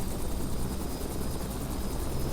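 A helicopter engine runs with a steady rotor chop and loud broadband whine in the video game Flight Simulator X, constant and alone with no talking.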